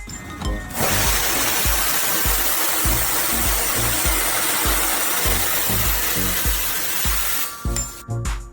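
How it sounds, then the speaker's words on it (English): A high-speed circular saw cuts through thick metal pipe into ring sections, a loud continuous whining, hissing grind holding steady for about seven seconds with a low rhythmic thump underneath, starting and stopping abruptly. "A high-speed circular saw cuts the pipe into ring sections instantly and smoothly."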